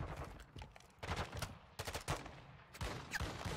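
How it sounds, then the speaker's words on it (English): Bursts of rapid automatic gunfire from the Call of Duty DMZ game crack out in several clusters over about three and a half seconds, with a firefight sounding at mid distance. "That's who they're shooting at."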